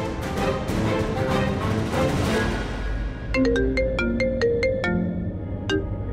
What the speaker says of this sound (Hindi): प्रीतिका को करता हूँ।